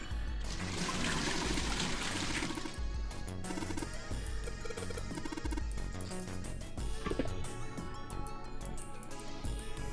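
Water pours steadily from a bucket in the video game 999, a continuous trickling and splashing that runs throughout, with no talk.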